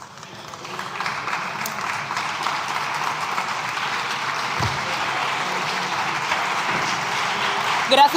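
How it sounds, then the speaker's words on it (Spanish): Sustained applause fills the Spanish parliament chamber, a steady broadband patter of many hands that holds for the whole stretch, with faint murmuring voices underneath. "Yo creo que deberíamos dar un aplauso."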